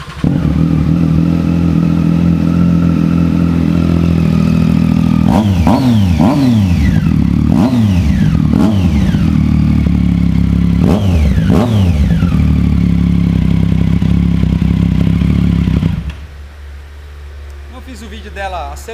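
A Kawasaki Z800 or Suzuki GSR750 motorcycle engine on a dyno, loud and close, holding a steady rumbling idle broken by several sharp throttle blips that rise and fall, before the engine cuts off near the end.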